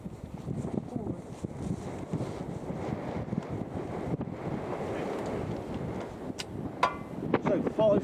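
Wind gusts buffet the microphone outdoors at a shooting range, a rough, continuous rumble that swells and fades and stays loud, with a few brief sharper noises near the end.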